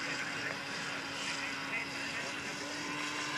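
Model aircraft engine at an SAE Aero Design competition, a steady droning propeller buzz with a constant tone, heard continuously from a moderate distance amid outdoor ambience.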